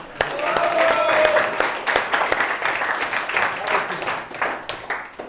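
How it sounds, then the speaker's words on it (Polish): A small group at a cycling team's season-summary gathering in Karpacz claps warmly in a steady, overlapping patter, with a few voices and a whistle-like tone threaded through. "Brawa dla Krzyśka!"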